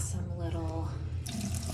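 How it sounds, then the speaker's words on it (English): Water streams from a fountain faucet into a sink in a hotel half bath, a steady running flow heard under someone speaking nearby. "faucet there, fountain faucet going on"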